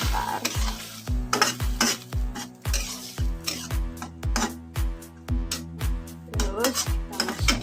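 Food sizzles in a hot pan, with a small splash of water just added, while a utensil stirs it in quick, regular scraping strokes that clack against the pan, close and continuous, with no talking.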